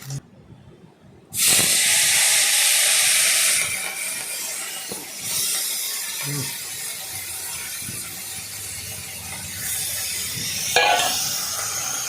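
Fish fry in hot oil in a pan, giving a steady loud hiss and sizzle that starts abruptly and continues with small crackles and scraping clatter.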